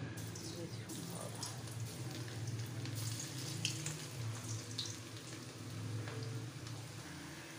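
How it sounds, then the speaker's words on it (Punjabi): Sliced bitter gourd (karela) fries in hot oil in a pan, giving a steady, moderately loud sizzling hiss with a low bubbling undertone that carries on throughout, with a voice talking faintly under it. "ਅਤੇ ਇਹ ਹੁਣ ਅਸੀਂ ਇਹਨਾਂ ਨੂੰ ਫਰਾਈ ਕਰ ਲਾਂਗੇ ਇਸ ਤਰ੍ਹਾਂ"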